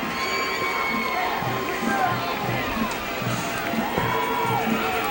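A crowd cheers and shouts at a 1997 IHSA Class 3A boys high school football championship game, a broad steady roar with a rhythmic chant, heard under a commentator's voice.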